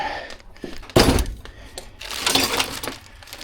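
A drawer in an old barn, packed with metal tools, is pulled open with a sudden loud clattering jangle followed by scraping and rattling of the tools shifting inside.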